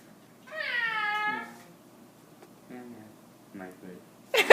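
A human voice imitates a cat, drawing out the word microwave as a long, close meow, followed by a few shorter vocal sounds and a brief noisy burst at the end.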